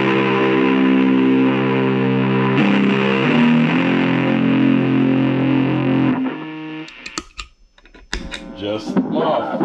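An electric guitar runs through an MXR Distortion+ pedal, giving loud, sustained, gritty chords that hold for several seconds before cutting out into some handling noise and clicks.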